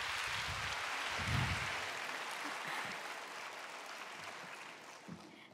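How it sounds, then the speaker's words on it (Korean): A church congregation bursts into sustained applause at a new-life festival service as a woman evangelist is welcomed to the stage, loud at first and gradually thinning toward the end. "영광의 박수로 우리 전도사님을 모시도록"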